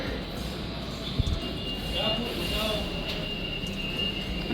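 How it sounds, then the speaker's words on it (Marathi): An airport's internal terminal-to-terminal train in transit in Malaysia, a steady rolling rumble with a high squeal of wheels, heard close while people talk over it. "इंटरनल ट्रेन आहेत टर्मिनल टू टर्मिनल जाण्यासाठी"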